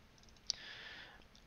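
A single crisp mouse click on the Windows Start button sounds close and quiet over a faint electronic hiss, followed by a soft, brief whoosh of the menu opening.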